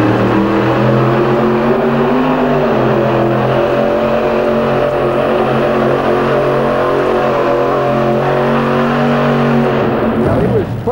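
A supercharged 498 cubic inch super modified race truck from 1990 roars down the track, a loud sustained engine drone that holds near and steady for most of the clip, with commentary heard faintly beneath it.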